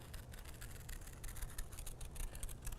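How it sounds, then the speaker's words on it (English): Scissors cut a circle from felt fabric, giving quiet, close, repeated soft snips and rasping strokes with no talking. "So if I'm cutting a circle, first of all, I'm opening up wide, and I'm inserting on the side"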